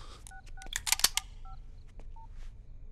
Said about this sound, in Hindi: राकेश भाई, एक फोन सिडनी को।